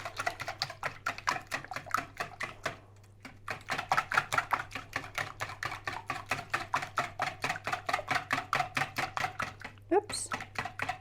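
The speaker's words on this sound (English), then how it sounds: "we're going to just break up the eggs. Give it a little whisk," Eggs are whisked by hand in a bowl, a fast, even run of close clicking taps against the side that pauses briefly near the start and then resumes steadily, over a low background hum.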